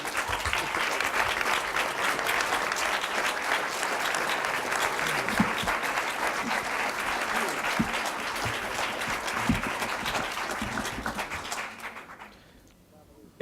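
Sustained, loud applause from an audience at a lecture fills the room for about twelve seconds, then quickly fades out.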